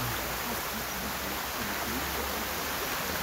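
A strong river current rushes through a dense Cambodian forest, a constant loud roar of churning water with no breaks.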